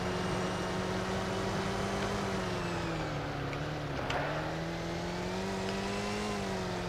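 Game car in Roblox with steady engine drone that dips and rises slightly mid-way as it accelerates sluggishly, continuous and fairly loud with no talking.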